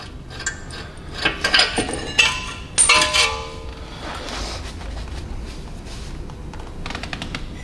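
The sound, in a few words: pushing brake caliper piston back, Hyundai i30n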